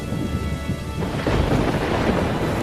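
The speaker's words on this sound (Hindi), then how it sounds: "आज फिर बहुत बारिश हो रही है" Heavy rain pouring steadily with a dense hiss, joined by a low thunder rumble partway through.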